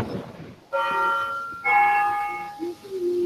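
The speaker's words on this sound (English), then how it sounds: "How long do these bells go for" Church bells ring in two loud, ringing strikes with long sustained tones that hang and overlap, close and prominent over faint background noise.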